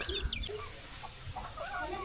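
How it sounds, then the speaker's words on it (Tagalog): Chickens clucking on a farm in the Philippines, short low clucks and scattered calls close by over a steady outdoor background, with no talk. "Mga manok."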